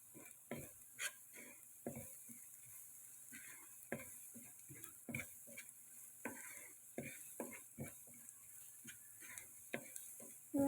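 Spoon stirring liver fry with salt, chili powder, coriander and cumin powders in hot oil, a steady series of soft scraping knocks over a faint sizzle.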